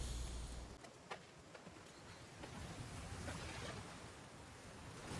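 River water flows in the video game New World as a steady, broad rushing wash that stays even throughout, with a few faint splashy ticks and no talking.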